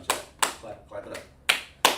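Hands clap loudly at close range, with four or five sharp, separate claps in an uneven rhythm while someone speaks between them.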